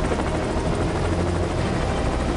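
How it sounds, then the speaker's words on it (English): A fire assault helicopter in the game Fire Department 2 roars overhead, its dense, steady rotor and engine noise loud and constant throughout, with no talking. "However, a fire assault chopper is available."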